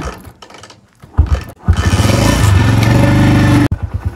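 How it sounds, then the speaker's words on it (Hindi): A motorcycle parked out overnight in the cold of Gilgit-Baltistan, on the road to Khaplu, cranks with a few short sputters, then catches and settles into a loud, steady close idle that cuts off abruptly. "बाइक तो यहीं पर ही खड़ी हुई है, अब इसको ज़रा स्टार्ट करते हैं"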